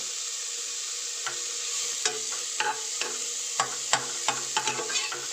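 Food fries in a pan at home with a steady hiss of sizzling oil, broken by a series of sharp scraping and clinking stirring strokes that quicken toward the end, close by and without speech.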